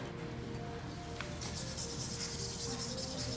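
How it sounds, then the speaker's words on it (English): Sandpaper rubbing along the edges of a stenciled wooden piece, a soft continuous scratchy friction at low level, growing slightly brighter partway through. "you can sand the edges down to give it a little bit of a distressing"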